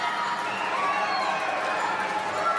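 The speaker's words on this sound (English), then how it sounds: "The home fans, they have been cheering their side the entire game." Home supporters cheer steadily at a wheelchair curling match between Great Britain and Italy in Milan, a dense, continuous crowd roar filling the arena without any clear pauses.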